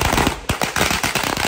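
Firecrackers pop at the Yanshui Beehive Festival in a dense, rapid string of sharp, close, loud bangs that crackle without pause.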